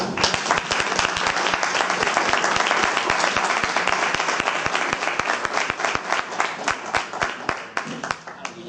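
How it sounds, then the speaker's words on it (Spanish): An audience at a parapsychology congress in Spain breaks into warm applause, a dense sustained clapping that gradually thins toward the end into scattered individual claps. "me vais a permitir brindaros un aplauso de vosotros mismos"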